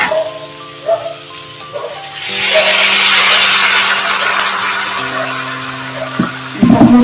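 Water pours steadily into a cooking pot of bisi bele bath seasoned with turmeric, a close rushing splash lasting a few seconds, with light kitchen clatter before and after.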